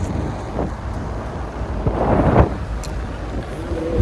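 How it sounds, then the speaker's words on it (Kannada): Wind buffeting the microphone on a hill trek outdoors, a continuous loud low rumble with gusts swelling and easing throughout. "ಗಾಳಿ ಏನು ಚೆನ್ನಾಗಿ ಬೀಸ್ತಾಯಿತ್ತು"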